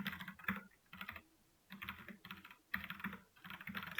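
Close, crisp keystrokes on a computer keyboard come in several quick bursts separated by short pauses, the clicking faint overall but clear and unaccompanied by any voice.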